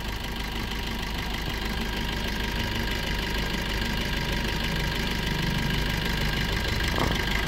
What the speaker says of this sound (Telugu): ఇంజన్ అయితే మాత్రం అల్టిమేట్ అండి.